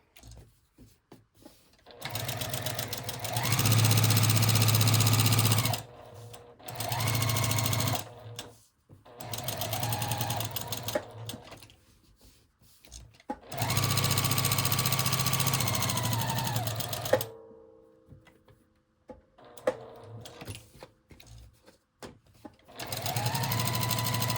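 Close, loud bursts of a sewing machine stitching a fabric folio with a chipboard insert, several runs of steady whirring separated by short pauses, the last stretch slower and quieter.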